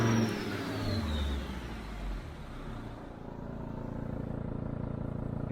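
Car engine revved hard through a badly adjusted exhaust, a loud close roar that swells and then settles into a steady rough drone, with no talk.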